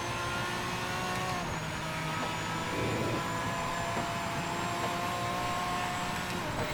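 Steady, fairly loud drone of an LMP prototype race car engine in Project Motor Racing, a constant whine holding pitch with slight shifts, no voices.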